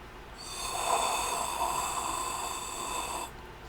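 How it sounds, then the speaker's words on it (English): A single long, strained wheezing breath, a hoarse hissing whistle with airy tones that swells and then cuts off. "A small sound interrupted her, a small wheezing sound that didn't come from her or Mogget"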